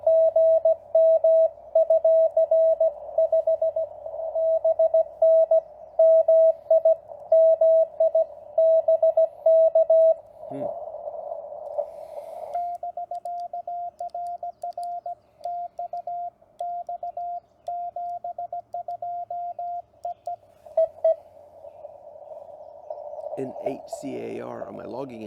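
A CW Morse code signal on the amateur radio bands keys on and off as a steady tone, sometimes fast and sometimes in longer dashes, close and loud over faint background static, with a higher warbling tone near the end.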